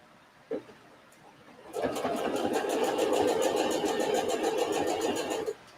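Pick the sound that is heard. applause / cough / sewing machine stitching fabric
sewing machine stitching fabric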